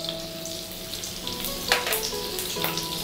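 Cumin seeds and green chillies sizzle steadily in hot oil, a continuous close frying hiss with a few brighter spits and pops breaking through, no voices.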